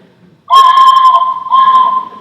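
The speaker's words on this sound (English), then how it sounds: "when you hear this train whistle, you know, Japantown has a train running right through it" A train whistle sounds in San Jose's Japantown, where a railway line runs through the neighborhood, blowing one long loud sustained tone with a brief dip before a second blast.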